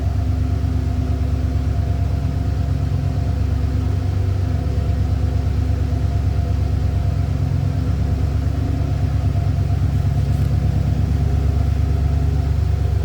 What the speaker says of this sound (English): Dual exhaust. Nice sounding truck.